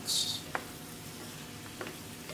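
Lamb meat sautéing in a hot pan gives a steady, close sizzle, with a couple of brief clinks from stirring.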